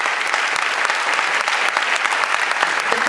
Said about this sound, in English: Please keep clapping as I bring some very special people back onto the stage.